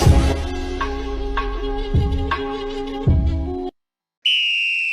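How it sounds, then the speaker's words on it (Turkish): A whistle is blown over and over in a short indoor scene, in sustained loud shrill blasts with brief breaks, then a pause and one more piercing blast. "Bu rızık sürekli düdük çalıyor"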